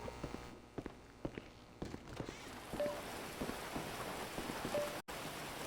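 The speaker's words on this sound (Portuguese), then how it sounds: "Ah, tá chovendo." Steady patter of rain in the video game GTA V, with scattered louder drops and faint thumps, continuous and fairly close, no voices.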